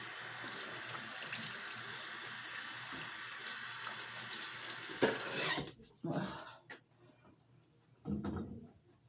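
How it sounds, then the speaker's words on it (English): Running water at a bathroom sink, with a steady tap flow that stops midway, followed by a few short splashes and handling sounds as water is splashed onto a face. "Then I get water and make sure to rinse it off really good with Kleenex and just splash my face."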